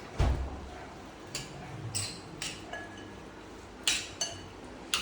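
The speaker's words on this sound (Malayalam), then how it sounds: "ഇനി നമുക്ക് നന്നായിട്ട് മിക്സ് ചെയ്യാം." Salad being stirred in a bowl with plain Milky Mist curd yogurt, giving a run of light clinks and taps of utensil against the bowl at an uneven rhythm, close and fairly quiet.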